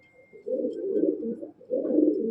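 Duma fancy pigeons coo softly in a loft, giving two low, throaty, rolling coos close by with a short pause between them.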